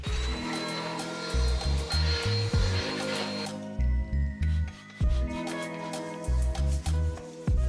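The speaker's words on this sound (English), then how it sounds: "I can just quickly vacuum crumbs on the table inside my organizing bins." A handheld crumb vacuum sucks crumbs from a table and from inside pantry organizing bins, its loud whirring motor running in repeated short bursts with brief pauses between passes.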